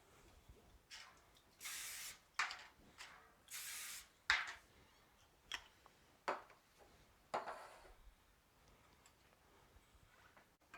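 Several short bursts of aerosol cooking spray hiss in quick succession onto baking pans, separated by quiet gaps with faint clinks, fairly close.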